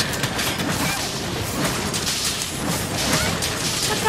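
A dragon's explosion in Monster Hunter World rumbles and crashes in a dense, sustained burst of booming impacts and crackling debris, loud and continuous throughout.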